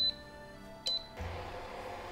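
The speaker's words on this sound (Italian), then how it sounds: "accendiamo il fornello," A kitchen stove burner is switched on: two short, sharp electronic beeps sound, then a steady, soft broadband hiss begins and continues to the end.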